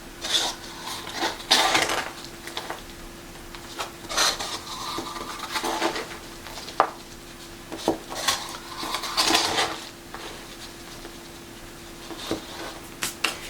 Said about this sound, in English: I'm just going to fill them up with this mixture of compost and